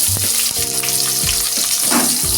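Chopped onion dropped into hot oil with cinnamon, cloves and cardamom for a fish kaliya, loud close hissing sizzle with a brief humming tone underneath.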